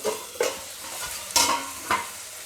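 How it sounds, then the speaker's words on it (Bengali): Jackfruit fat curry sizzles in a pan while a spoon stirs it in a few scraping strokes. Steady frying hiss runs underneath, with no voices. "2 মিনিট পর খুলে আমি তরকারিটা নেড়ে দিলাম।"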